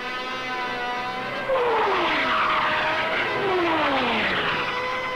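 Military jets launched from aircraft carriers roar loudly and continuously, with descending whooshing pitch sweeps as planes pass close by.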